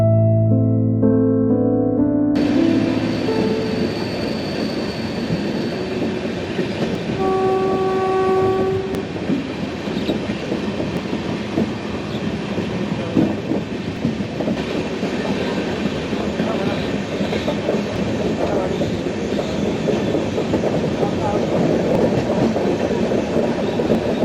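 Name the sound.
train running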